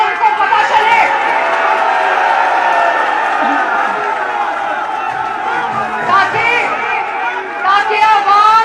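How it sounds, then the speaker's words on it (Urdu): A large political rally crowd in Sheikhupura chants and cheers in loud overlapping waves, voices rising and falling with occasional whoops throughout. "میرا بڑا دل کرتا ہے کہ یہ نعرے جو آپ لگا رہے ہیں یہ ٹی وی کے تھرو 22 کروڑ عوام سنیں"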